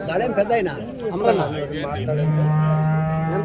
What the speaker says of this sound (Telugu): ఆవు దూడ